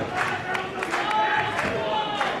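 Wrestling arena crowd cheering and shouting for its champion at a live show, a loud, continuous roar with rising yells and bursts of excitement.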